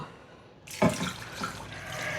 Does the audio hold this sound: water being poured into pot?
yes